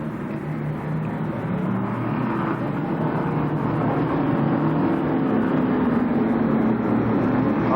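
Dirt-track race cars at Columbus Motor Speedway circling under caution in 1993, a steady loud engine drone with a rising and falling tone as they pass, with no clear talk over it.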